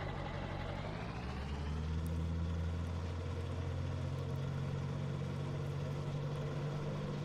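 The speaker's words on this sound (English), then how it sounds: "This engine sounds so good on this mod." A pickup truck engine rumbles steadily in the Farming Simulator 19 video game, a low idling drone that swells slightly as it picks up revs, moderately loud, with nobody speaking.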